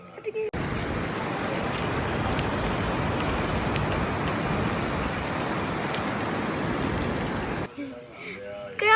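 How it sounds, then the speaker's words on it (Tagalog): Steady heavy rain pours down without a break, a dense continuous hiss close by, ending abruptly before faint voices. "umuulan po pala mga B"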